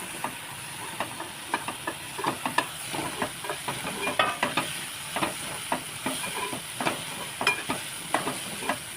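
Ginger and garlic being stirred and roasted in a pan, a hissing sizzle broken by frequent rhythmic scrapes and clicks of the spoon, up close and continuous with no talking.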